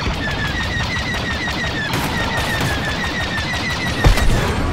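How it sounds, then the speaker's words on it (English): Resistance fighters in Star Wars Battlefront 2 fire blasters in rapid, continuous volleys, a dense rattle of repeated shots close by with a heavier burst near the end and no speech. "Resistance fighters are firing on our forces."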